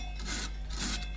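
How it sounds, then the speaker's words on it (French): Brush scrubbing a seized bolt on the ball joint clamp of a Renault Laguna 1 phase 2 that was treated with penetrating oil, giving two close raspy bursts of bristles on metal over a steady low hum. "brosse bien le boulon qui"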